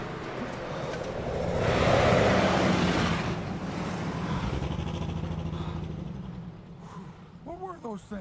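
Cars passing by, a broad rushing swell that builds to a loud pass around the middle and then trails into a steady roar, with wind-like noise throughout.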